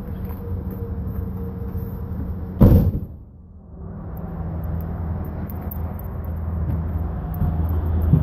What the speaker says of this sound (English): I'm going to close the hood.